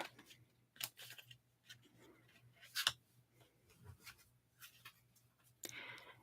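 A huge deck of cards is shuffled softly and close up, with faint riffling rustles and sharp clicks in irregular bursts in a quiet room.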